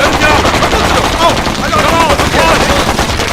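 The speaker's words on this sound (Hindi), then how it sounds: "गोलियां चलाते रहो।" Loud rapid gunfire rattles continuously in dense bursts, with a voice shouting over the din.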